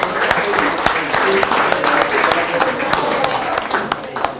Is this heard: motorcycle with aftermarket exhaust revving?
no